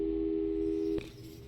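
A telephone busy signal from the Portal 2 video game: a steady electronic tone holds for about a second, then cuts off abruptly, leaving a faint tail and low background hum.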